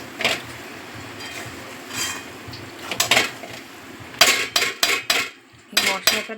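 Two ingredients are mixed together in a bowl, the utensil clinking and scraping against the bowl in irregular knocks that grow busier and louder toward the end, close up and without speech.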